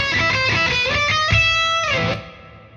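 Electric guitar played through a Lexicon PCM 96 large hall reverb: sustained distorted notes with a swelling tail that rings on and fades out at the end, no voices.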